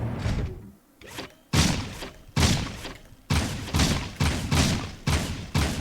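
Gunfire on the gun course in the video game Jak 2: Renegade, loud close bursts of shots in a rapid run, then several evenly spaced blasts with brief gaps between them.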